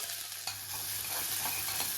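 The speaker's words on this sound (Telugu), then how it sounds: "ఉల్లిపాయలు కాస్త ఫ్రై అవ్వాలి." Steady sizzling of onions frying in hot oil with tempering spices, with occasional stirring scrapes, close and continuous with no talking.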